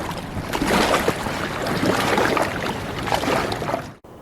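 Motorboats passing along the Martwa Wisła river during autumn feeder fishing: a steady broadband engine and hull rumble with water wash and wind, fairly close and loud, continuous for about four seconds before cutting off abruptly.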